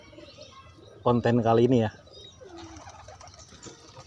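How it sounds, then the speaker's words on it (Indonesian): Pet pigeons coo softly in the background, with someone talking briefly over them up close. "Merpati saya ini ya, sudah pada minum nih, saatnya mau pada mandi nanti nih ya kan."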